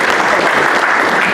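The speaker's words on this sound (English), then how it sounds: "I'd like to all give a big round of applause for both boys for making this fight happen" Loud, dense applause from a crowd at a boxing press conference held in a stadium, a steady wash of many hands clapping close and unbroken.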